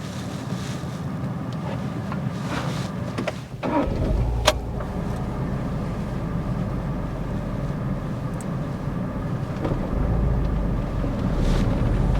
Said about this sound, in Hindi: पहले गाड़ी को स्टार्ट कर लीजिए